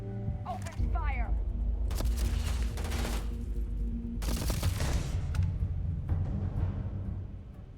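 Bursts of gunfire in the sci-fi video game Starfield, a loud, dense fusillade of rapid shots with sharp crackling transients that continues almost nonstop.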